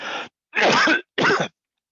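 Three harsh coughs in quick succession, close and fairly loud, with short silences between them.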